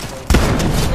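A single sharp gunshot cracks out loud and near in a video game match, followed by a sustained noisy game ambience.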